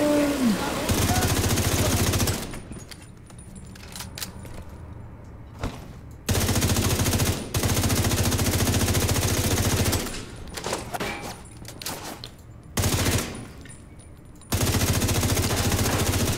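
Enemy machine gun fire in The Division 2 video game, loud sustained bursts of automatic fire broken by short quieter gaps, with players talking over it.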